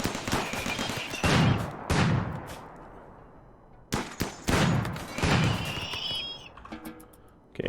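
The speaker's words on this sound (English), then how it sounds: "it's not really safe out here with the uranium turrets going off" Uranium turrets in the video game RimWorld firing in repeated bursts of loud, booming shots with gaps between volleys, heard in a desert setting.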